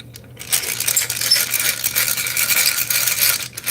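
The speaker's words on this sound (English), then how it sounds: "With Bubbles pencil sharpener." Bubbles pencil sharpener grinding steadily for a few seconds, a close, continuous rattling mechanical whir with no talk.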